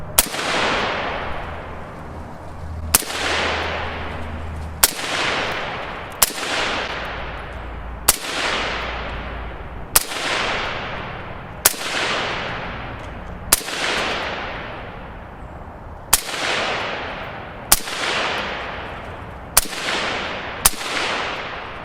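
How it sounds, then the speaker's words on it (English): Suppressed 5.56 rifle shots through a WhisperStrike M80 suppressor, eleven sharp cracks spaced a few seconds apart, each trailing into a decaying hiss, loud and alone with no talk. "All right, let's take our first shots with her."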